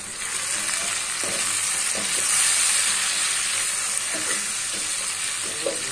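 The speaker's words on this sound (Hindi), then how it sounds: "अब हम इसमें टमाटर डालेंगे।" Tomatoes hit a hot frying pan and sizzle loudly and continuously up close, with a swell in the middle and some stirring clatter over the steady hiss.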